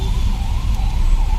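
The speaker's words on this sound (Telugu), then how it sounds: "సైరన్ ఆన్ చేసుకొని కూర్చున్నాడు" An ambulance siren wails steadily from a vehicle stuck in a traffic jam during heavy rain, its wavering tone sitting over loud low rumble and rain noise.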